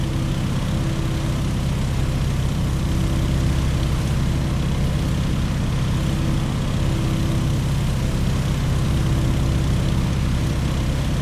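Propeller airplane engine droning steadily through a slow, nose-high landing approach in Microsoft Flight, a loud continuous low hum with a constant tone throughout.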